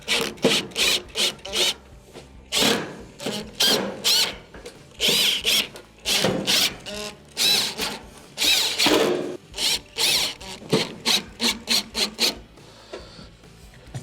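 A power drill drives screws into the control panel of a Whirlpool stove, with repeated loud, close bursts of whirring and grinding separated by short pauses.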